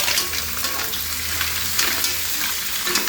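Mussels stirred in a pan with sautéed onion, garlic and ginger give a steady close sizzle of frying, with scraping stir strokes running throughout and no voices.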